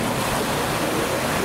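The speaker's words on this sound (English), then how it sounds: "Range Rover's making a splash." A Range Rover pushes through the deep flooded ford at Rufford Ford, throwing up a continuous loud rush of splashing water with no break or talk.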